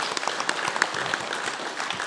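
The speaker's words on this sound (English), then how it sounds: "So can we give them all a big round of applause," Audience at a democracy summit applauding, a steady moderate patter of many hands clapping with a few sharper claps standing out, heard briefly.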